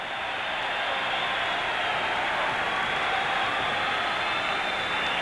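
Hockey crowd at Madison Square Garden during a 1981 Islanders at Rangers NHL game, a steady loud roar of cheering filling the arena without pause.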